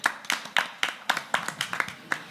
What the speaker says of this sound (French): On peut l'applaudir aussi bien fort, si vous êtes d'accord.